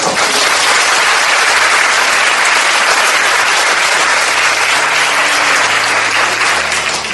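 Applause of thanks at a church presentation session, welcoming readers who travelled from afar: loud, close, continuous clapping that stays dense and even from start to finish.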